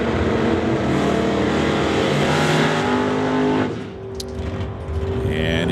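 A 1960s vintage Chevy Z28 Camaro drag racing, engine roaring loud and sustained down the strip before fading, with faint voices under the noise.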